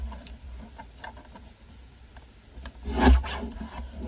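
Soft scraping and rasping of a blade trimming a thin sliver off the edges of journal paper, quiet irregular strokes with a brief louder rub near the end, no talking.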